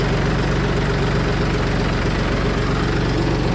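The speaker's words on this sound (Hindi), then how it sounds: "देखो बिल्कुल 4x4 में लग के चल रहा है, बहुत ही शानदार ट्रैक्टर" A Mahindra 4x4 tractor engine runs steadily in a field during afternoon ploughing and furrow-making, a loud, continuous low idle-like drone with a regular throbbing pulse and no voices.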